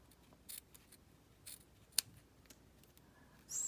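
Scissors snip paper scraps for a green and gold fun fold card, a few quiet, crisp cuts spaced irregularly in a still room.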